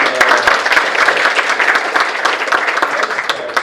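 Audience applause at a 2023 basketball talk evening, brisk crowd clapping with distinct sharp hand claps standing out, sustained and fairly loud throughout.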